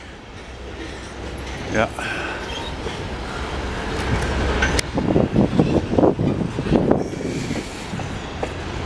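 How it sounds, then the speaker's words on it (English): CN freight train passing in Montreal's Ahuntsic borough: a steady nearby rumble of rolling cars with rhythmic wheel clatter and squeal, while someone talks over it. "This train, judging by all the cars it has"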